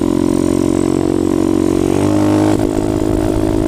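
A motorcycle engine held at a steady loud drone while the rider balances a wheelie, the pitch shifting as the throttle is adjusted and the brake lightly applied.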